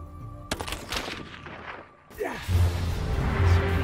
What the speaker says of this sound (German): Kajak und Harpune ersetzt durch Präzisionsgewehr mit Zielfernrohr.